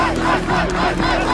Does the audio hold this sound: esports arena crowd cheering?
yes